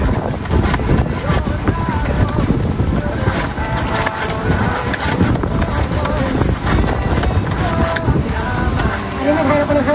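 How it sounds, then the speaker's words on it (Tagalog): Strong wind roars and buffets the microphone continuously for several seconds on a beach, with faint voices mixed into the noise. "Ano na, hanap ko ng hangin. Ayan, ang hangin."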